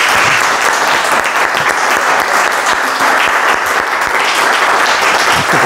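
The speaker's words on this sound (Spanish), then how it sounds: "lo vamos a recibir con aplauso para que se emocione" An audience at an Ink & Insight evening event applauds to welcome a speaker, with loud, steady, close clapping throughout.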